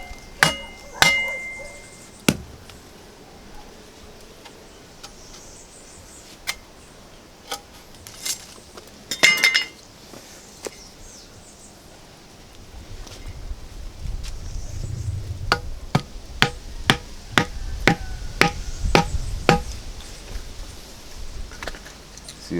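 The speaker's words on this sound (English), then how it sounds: "Split the wood there. And hopefully our wedge could go in here as well." A hammer drives a wedge into wood to split it, a series of sharp metallic knocks that come irregularly at first and then in quicker runs over a low background rumble.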